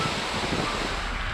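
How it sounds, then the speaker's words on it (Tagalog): Ocean waves washing onto a beach in Zambales, lined with rows of agoho trees, make a steady broadband roar that holds even and unbroken for the short stretch, with no voices. "Habang ang tunog ng alon may dalang kapayapaan."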